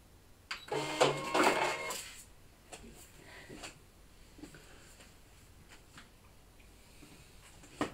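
A Brother ScanNCut CM-series cutting machine unloads its cutting mat with a short burst of motorized whirring and roller clatter, then settles into a quieter mechanical hum with a few faint clicks.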